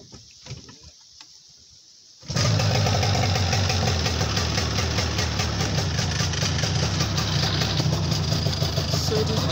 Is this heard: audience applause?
no